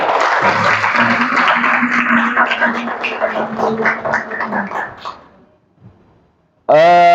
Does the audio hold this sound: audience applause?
yes